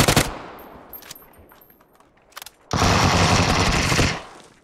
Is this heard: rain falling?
no